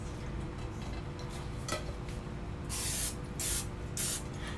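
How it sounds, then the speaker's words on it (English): Cooking spray is sprayed inside a bundt cake pan in three short hissing bursts close to the microphone, following faint kitchen clinks against a quiet background. "Spray the inside on both sides so it's completely covered in spray."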